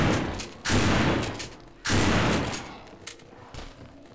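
Shotgun blasts from the zombie shooter No More Room In Hell: two loud, close booms roughly a second apart, each trailing off into a noisy decay, followed by softer clicks and thumps.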